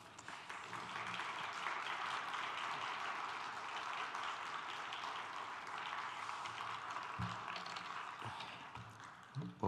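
A church congregation at a Friday prayer service claps steadily to welcome the pastor, a sustained applause that holds at moderate distance and tapers toward the end.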